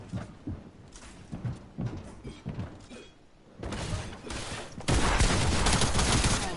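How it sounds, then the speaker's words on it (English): Gunfire in the Fortnite video game, a loud dense volley of shots that grows heavier and continuous toward the end, with faint voices under earlier bursts. "that gun is so annoying. It's right in my face."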